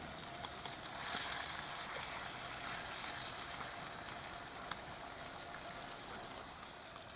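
Side meat bacon frying on a Coleman camp cookstove, a steady close-up crackling sizzle that holds even and unbroken throughout, with no voices.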